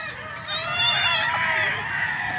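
Laying hens over eight months old cluck and squawk together in a busy, fairly loud chorus of overlapping calls, steady throughout with no speech.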